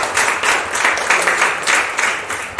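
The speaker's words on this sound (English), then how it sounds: "a big round of applause to all of you" An audience of mothers at a women entrepreneurship celebration claps in a loud, fairly dense round of applause, with rhythmic surges in the clapping through the short stretch.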